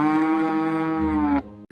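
A cow lets out one long, loud, close moo lasting over a second, deep and steady in tone, followed by a brief soft noise.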